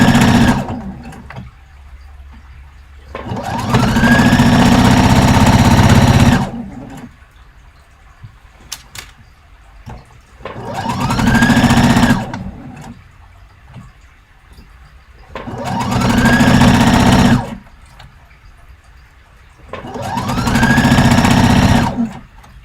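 Sewing machine stitching Orla dress fabric in bursts of steady mechanical whirring, four or five runs of several seconds each separated by quiet pauses, close and loud.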